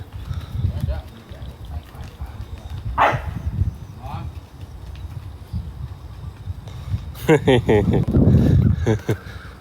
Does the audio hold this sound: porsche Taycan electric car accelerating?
no